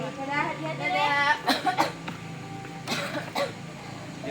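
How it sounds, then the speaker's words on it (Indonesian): A child coughs in an office, several short harsh bursts in two quick clusters, close by, with voices talking around them. "Tiap hari kita dengar kan di kantor ini batuk terus."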